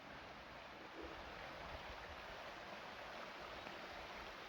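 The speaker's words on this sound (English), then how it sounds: "The river going along." Steady, soft rushing of flowing river water on the Wales Coastal Path between Machynlleth and Borth, a continuous broad wash with no voices, heard from a short distance.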